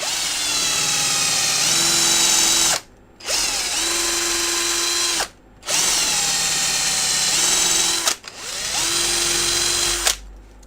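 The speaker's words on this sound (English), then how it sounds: "I'm gonna try to drill this out." A power drill boring out a broken Hoover Platinum vacuum handle, loud whining bursts of drilling that stop and restart four times with short silent gaps between runs.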